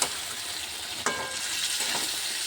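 Meat frying in a pan with onion, ginger and garlic, a steady close sizzle with a sharp burst of stirring about a second in, then continued crackling and scraping with no talk.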